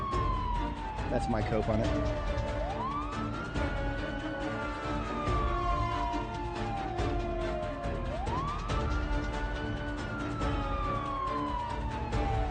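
Wailing police car siren in the Project Zomboid video game, rising and falling in two long sweeps, loud and continuous over a car in a parking lot, with someone talking briefly over it.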